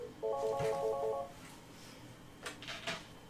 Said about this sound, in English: Sending that call out now, and you're going to hear it ringing in the background there.